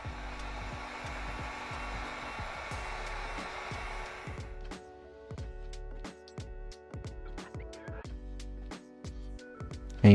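A heat gun blows steadily while post-heating tint film on a 2014-2025 Dodge Durango taillight, a continuous loud rush for about four seconds, then cutting out into intermittent handling clicks and taps.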